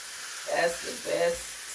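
Steady sizzling hiss of steak frying in a stovetop frying pan, with two swelling bursts of crackle over a constant fizzing background.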